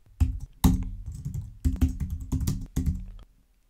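Fingers type on a computer keyboard while entering Excel VBA code, quick clustered key clicks in several short bursts, close and clear with no voice.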